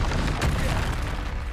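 A Confringo explosion spell from the Hogwarts Legacy video game bursts out as a dense, rumbling blast with a sharp peak early on, loud and sustained over a continuous low roar.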